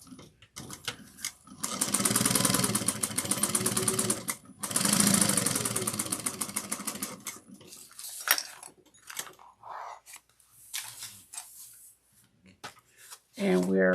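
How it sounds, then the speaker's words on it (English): A sewing machine stitches fabric at a quarter-inch seam in two rapid bursts of clattering needle strokes up close, followed by quieter handling sounds and pauses. "we're going to sew it together at 1/4 of an inch"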